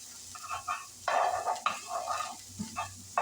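Vegetables and minced garlic sizzling in a pan, bursts of crackling sizzle rising and falling with stirring movements, fairly quiet and close, no talking.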